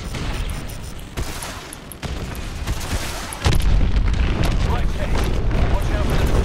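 Missile strikes in the Call of Duty: Advanced Warfare campaign, fired during an aerial attack on a hydroelectric dam: sharp cracks followed by a heavy, sustained rumbling boom, with voices over the blasts.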